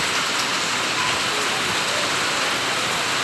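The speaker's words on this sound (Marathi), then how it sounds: "बघा पाऊस भरपूर आलेला आहे" Heavy unseasonal rain in Tuljapur taluka pours steadily, a dense continuous hiss of drops with no pauses and no voices.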